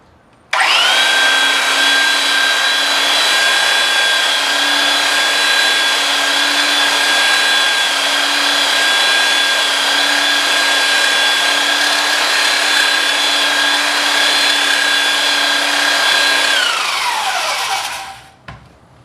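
Power sander with 80-grit paper working the surface of a wooden chess board, a loud steady whine with sustained tonal hum running unbroken for about sixteen seconds before winding down at the end; no talking.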